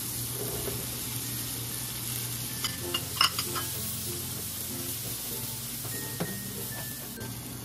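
Mushrooms and onions sizzling in a frying pan with pork chop, a continuous bright hiss with scattered stirring scrapes and utensil clinks, close and steady with no talk.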